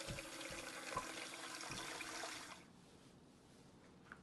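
Tap water runs steadily into a cooking pot for boiling fish head bones, a broad rushing splash that lasts a couple of seconds and then cuts off, leaving quiet room tone.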